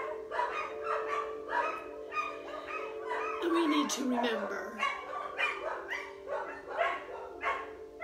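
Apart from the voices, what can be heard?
dogs barking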